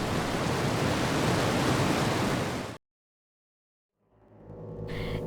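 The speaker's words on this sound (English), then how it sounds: "I listen carefully and hear the sound of water flowing." Water flows steadily in a horror adventure game, a broad rushing wash that fills the first half, cuts to silence, then swells back in with a rising tonal layer on top.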